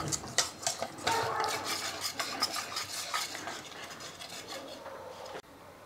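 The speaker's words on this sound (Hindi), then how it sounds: "तेल डालने के बाद हम अच्छे से मसाले को मिक्स करेंगे।" A spoon scrapes and stirs spice marinade into chicken in a bowl, making a run of close, rhythmic clinks and rubbing sounds that end with a sharp knock.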